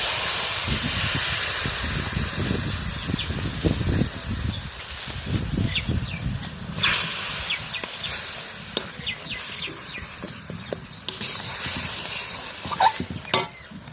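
Water rinsed from a mixer jar splashes into a hot pan of cooked masala, setting off a loud rushing sizzle and hiss that gradually settles into bubbling and stirring clatter.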